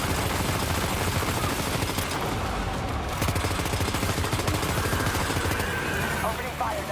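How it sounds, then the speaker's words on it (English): Gunfire in Death Stranding 2, rapid automatic shots rattling steadily for several seconds, loud and close, with rumbling noise underneath and a voice partly buried in the mix. "Opening fire now."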